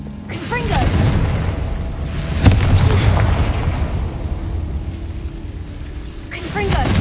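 Confringo fire-blast spells in the video game Hogwarts Legacy, booming bursts and crackling impacts over a dense rumbling game backdrop, with a spoken incantation heard among the effects.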